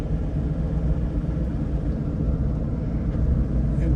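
A 2010 Land Rover Defender 110 TDCi station wagon driving down the road, with a steady low engine rumble and road noise from inside the cabin and no distinct shift audible.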